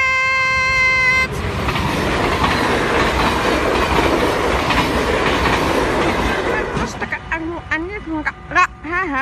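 An Arriva train rushes past close by in Linne, a loud sustained roar with rail clatter that drops away abruptly, followed by people talking and excited shouts.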